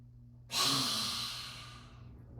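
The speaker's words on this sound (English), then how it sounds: "Breath in." A single deep, audible breath drawn in during a yoga session, starting abruptly and close, then slowly tapering off over about two seconds in an otherwise quiet room.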